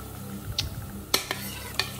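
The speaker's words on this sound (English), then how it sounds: "Onion and chili all gone in." Chopped onion and chili sizzling in a hot frying pan as courgettes and runner beans are cooked, a soft steady fizz under several sharp utensil clinks and scrapes against the pan.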